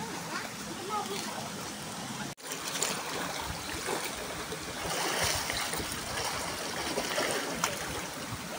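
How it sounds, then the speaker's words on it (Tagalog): A strong current of water rushes through a stream at a warm-water spot by rice fields in Laguna, a loud continuous gush up close, with a brief sharp dropout and people talking over it. "Lakas talaga ng agos ng tubig eh."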